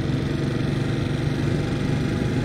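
A motorbike engine runs steadily at a wholesale fruit and vegetable market in Casablanca, a close, continuous mid-pitched drone with no break.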